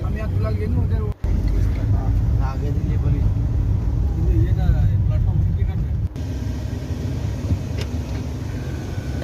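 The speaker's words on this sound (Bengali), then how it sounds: "আর মিঠির বাবা গাড়ি চালাচ্ছে" A car carries passengers on the way to Howrah station, with a steady low engine and road rumble inside the cabin and people talking over it throughout.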